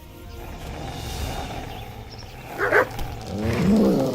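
A dog in the medieval open-world video game Kingdom Come: Deliverance gives a couple of short barks and a low growling whine, moderately close over steady ambient game sound.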